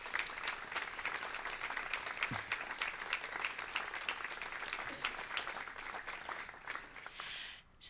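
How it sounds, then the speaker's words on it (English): Warm round of applause from a brass band festival audience for the adjudicator, a sustained even patter of many hands in a hall, fading near the end. "giving him a very warm round of applause"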